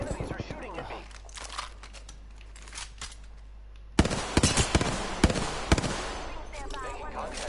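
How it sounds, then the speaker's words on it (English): Enemy gunfire in Apex Legends ranked play, sharp bursts of shots and impacts that grow louder and denser partway through, mixed with game sounds and some talk. "The enemies are shooting at me"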